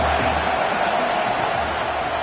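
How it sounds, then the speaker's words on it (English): Football stadium crowd at a college game, a dense steady roar of cheering and noise filling the space, with no clear individual voices. "This crowd trying to make life miserable for this offense."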